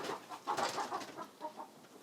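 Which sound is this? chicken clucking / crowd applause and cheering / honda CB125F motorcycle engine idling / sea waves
chicken clucking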